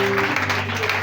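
A church congregation applauding and acclaiming, giving steady, dense clapping and crowd noise that fills the short moment alongside voices.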